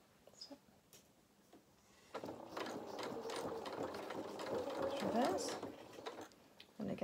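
A sewing machine runs steadily while stitching a sailor dress for a Luna Lapin doll, starting after a few faint clicks and whirring continuously for several seconds at moderate volume.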